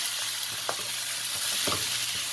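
Mutton frying in a pan for Afghani Kabuli pulao, a steady hiss of sizzling oil with a few scraping stirs of a spoon at intervals, close and fairly loud, no voices.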